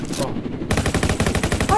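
Rapid rifle gunfire in the Roblox game Jailbreak, a dense string of loud, evenly spaced shots close up, preceded by a short burst of game noise.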